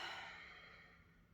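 A single long, soft exhale during a standing power yoga pose, breathy and close, gradually fading over a faint steady background hum.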